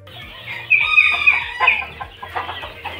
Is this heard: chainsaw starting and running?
no